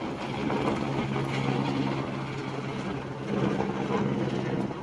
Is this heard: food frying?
no